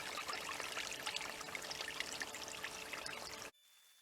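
Water pours off a large 20 by 16 tarp and splashes in a steady stream for a few seconds, then stops abruptly, leaving a quiet background.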